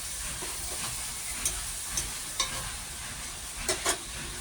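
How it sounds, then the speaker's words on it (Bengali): Taro leaves (kochu shak) cooking in a pan, a steady soft sizzle and hiss with a few faint clicks and taps scattered through, quiet and close. "কচুর শাকটা চাপিয়ে দিলাম।"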